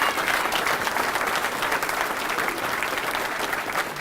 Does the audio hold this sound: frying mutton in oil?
no